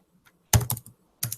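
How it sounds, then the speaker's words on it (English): Computer keyboard typing in a few quick bursts, with a short cluster of clacking keystrokes followed after a pause by another brief run, fairly close and alone. "I know this typing sound is annoying as hell"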